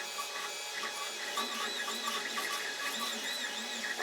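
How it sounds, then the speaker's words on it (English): A Creality Ender 5 Plus 3D printer, its filament spool rubbing against the edge, gives off a faint, repetitive squeaking and whirring, wavering pitched rubs in quick cycles over a soft mechanical hum. "it's the spool rubbing against the edge"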